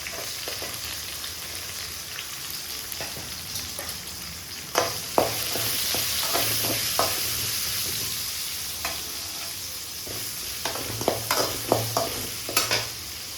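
About fifteen cut small onions frying in hot oil for vatha kuzhambu, a steady close sizzle with occasional clinks and scrapes of stirring, no talk.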